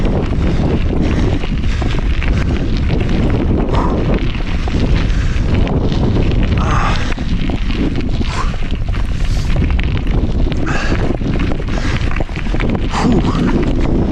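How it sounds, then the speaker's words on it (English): Strong wind on a mountain at 2248 m batters the microphone on a bicycle ride, a loud, constant low roar and buffeting that fills the whole stretch with no letup. "Wind."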